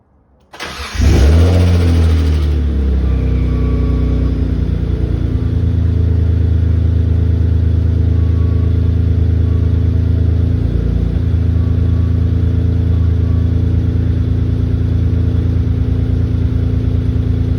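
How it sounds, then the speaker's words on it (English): A Mitsubishi 3000GT VR4 with a Tanabe aftermarket exhaust cranks and fires up, flares loudly once, then settles into a steady, deep, close idle that runs uninterrupted with no talk. "that will give you guys a glimpse of how the exhaust sounds"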